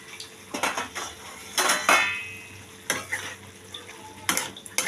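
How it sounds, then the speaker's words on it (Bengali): A metal lid comes off a pot of drumsticks in mustard sauce with a few sharp clinks and scrapes, and the sauce sizzles and stirs between the knocks. The clatter is close and comes in short bursts, with no talking. "ঢাকাটা খুলে আমি দেখাচ্ছি।"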